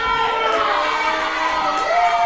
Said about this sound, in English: the crowd's been letting Jordan James know what they think.